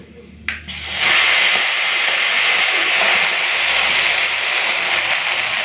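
Bottle gourd leaves drop into hot oil seasoned with black cumin, and a sudden loud hiss erupts, then settles into a strong, continuous close-up sizzle.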